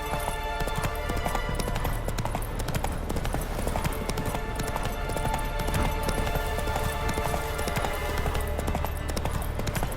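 A horse gallops with steady, rapid hoofbeats throughout in The Witcher 3: Wild Hunt on PlayStation 5, loud and continuous over a dense bed of ambient game sound.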